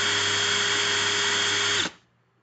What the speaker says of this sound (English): So I'm going to reverse the drill.